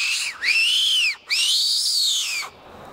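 An Apex fox whistle blown hard beside a freeway, giving two loud, shrill squealing calls that rise and fall in pitch, the second one longer, with a short gap between them and no talk.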